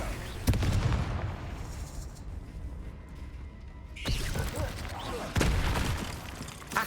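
Blast of the Confringo fire spell in Hogwarts Legacy, a sharp booming burst near the start followed by more heavy impacts later, under a steady din of game effects with some voice present.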